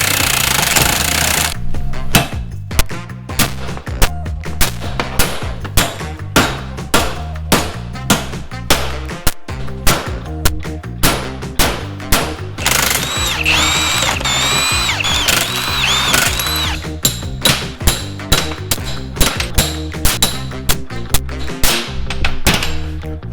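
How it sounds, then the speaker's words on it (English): An impact wrench removes bolts from a vehicle's rear end in a shop, hammering loudly and close in repeated rattling bursts with short pauses between them. "So first things, we got to take out the bolts."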